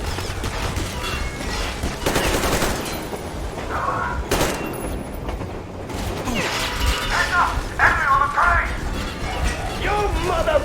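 Gunfire crackles through a firefight in Metro Exodus, with repeated shots and bursts, a sharp loud blast partway through and mechanical clatter, all under shouted voices.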